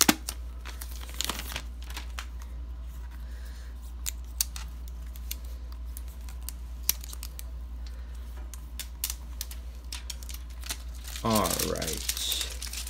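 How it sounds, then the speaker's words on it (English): Plastic wrap peeled and crinkled off a new Apple TV 4K 64GB, with rustling, tearing and a louder crinkling burst near the end, over a steady low hum under a voice. "So let's take the plastic off now."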